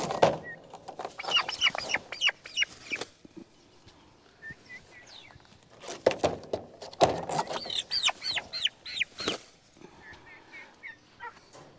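Young ducks out on grass for their first time let out bursts of loud, repeated quacking calls. The calls come close up and often overlap, with short quieter gaps between the flurries.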